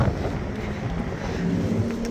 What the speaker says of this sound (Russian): Ой, какой ветер. Ветер.